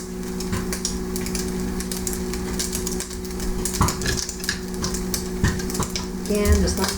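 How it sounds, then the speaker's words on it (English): Steady sizzling and crackling of Butterball turkey bacon frying in an electric skillet, with occasional soft pops and a low electrical hum underneath. "what the Butterball turkey sounds like in the electric skillet"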